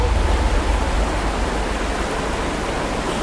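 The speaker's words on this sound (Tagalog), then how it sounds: "Biglang lumakas yung current ng tubig habang nasa camp kami dito sa Bunsuran." A powerful, continuous roar of a suddenly strengthening river current near Bunsuran Falls during a flash-flood threat, loud and close, with a deep rumbling undertone and no voices.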